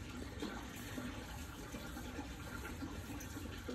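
Water rushes steadily from a pool autofill line controlled by an irrigation timer valve, a continuous broadband gush at a constant level for the whole stretch, with no speech.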